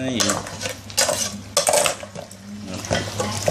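Repeated clattering of a utensil scraping and knocking against a pot while Thai salty chicken soup with meat is stirred, in close, uneven bursts with no talking.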